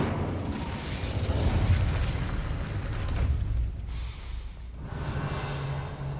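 An Incendio fire spell is cast in Hogwarts Legacy, a rushing whoosh of flame with crackling bursts and mechanical rattles, loud at first then easing off.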